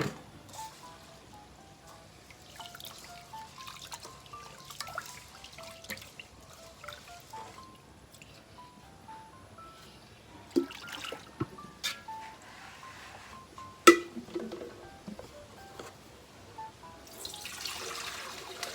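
Water trickles and splashes intermittently as something is washed by hand, with scattered clinks and a louder rush of water near the end.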